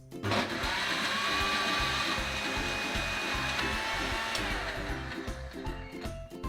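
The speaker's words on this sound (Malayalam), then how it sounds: "ഇപ്പം ഇത് അടിച്ചെടുത്തിട്ടുണ്ട്." A kitchen mixer blends mango juice with loud, steady motor whirring and rattling close by, its pitch shifting slightly as the contents churn, then winding down near the end.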